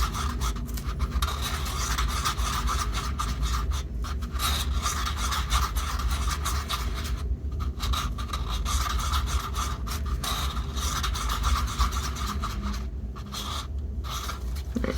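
Resin being stirred with a stick in a cup for a poured resin vase, a steady scraping, rubbing sound that continues without pause at close range, with no talking.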